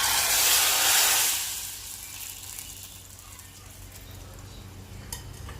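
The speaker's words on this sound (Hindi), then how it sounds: "फ्लेम को करते हैं बंद और लगाते हैं बघार" Hot baghar with whole red chillies is poured over masoor dal, giving a loud burst of sizzling that fades within a couple of seconds into a soft, steady hiss.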